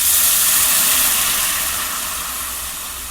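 Water poured into a hot phodni tempering for khichdi makes a loud, steady steam sizzle and hiss that fades gradually over about three seconds, with no voices.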